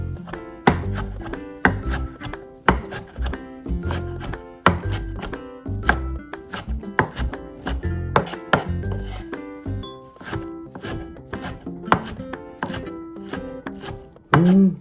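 A knife chops freshly picked wild shepherd's purse and chwinamul on a board in a steady run of sharp, close thunks with brief pauses between bursts.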